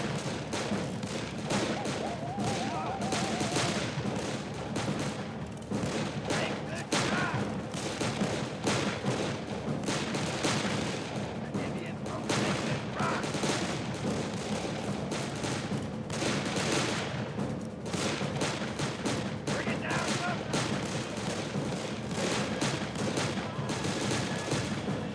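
Dense, continuous gunfire in the video game Darkest Of Days, many overlapping shots forming a steady battlefield roar with no clear pauses.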